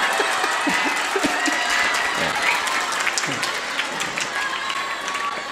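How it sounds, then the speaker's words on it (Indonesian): Audience at a large Islamic religious gathering bursting into sustained applause, dense clapping filling the whole stretch with a few scattered voices and faint talk mixed in. "Ini kenapa kok tepuk tangan?"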